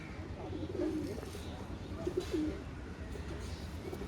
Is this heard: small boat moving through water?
no